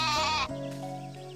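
A cartoon sheep on a farm in Story of Seasons: A Wonderful Life gives a single loud, wavering synthesized bleat, followed by softer game chimes and background music.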